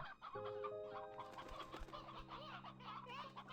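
Chickens cluck and a rooster calls inside the video game Slime Rancher 2, several bird voices overlapping close by in a steady run of clucks against a game background.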